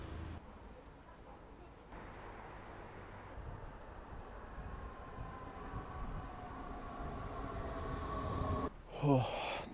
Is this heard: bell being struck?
no